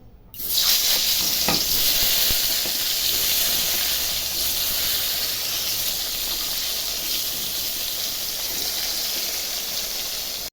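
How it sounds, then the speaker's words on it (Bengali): Brinjal slices coated in turmeric and salt fry in hot oil, starting with a sudden loud sizzle that settles into a steady, even hiss lasting throughout, close by. "তো আগে আমি বেগুন ভাজাটা করে নিচ্ছি"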